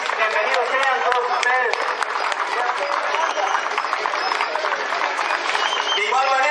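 Crowd applause for a traditional dance at a pilgrimage of communities in Quimichis, Nayarit, steady clapping and crowd noise throughout with music and voices mixed in.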